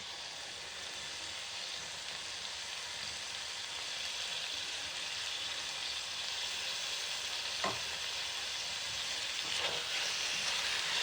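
Soya methi keema is stirred in a hot pan, a continuous sizzle and fry hiss with a couple of scraping stirs near the end, fairly quiet and close, with no voices.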